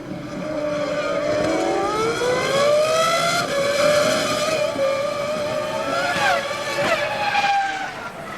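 Formula One V10 race car engines at the 2002 Canadian Grand Prix scream past at around 18,500 RPM, a loud sustained whine with rising and falling pitch sweeps as cars pass, with faint commentary-like voices underneath.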